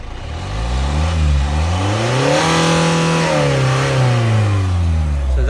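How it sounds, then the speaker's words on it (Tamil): A Hyundai Santa Fe diesel engine revs up through a long, rising exhaust note, holds high, then eases back down, loud and close with no talking. "ஸோ டீசலோட எக்ஸாஸ்ட் நோட் கேட்குறீங்களா?"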